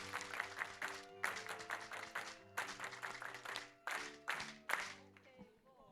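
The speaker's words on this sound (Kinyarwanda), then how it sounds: "Reka dukomere Imana amashyi ya special." Church congregation clapping in several rhythmic bursts alongside a sustained musical tone, the claps loud and close, pausing briefly between rounds before fading out.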